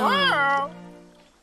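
Cartoon cats meow together as a choir, a loud, bright, drawn-out sung meow that swoops and then fades away, with no talking.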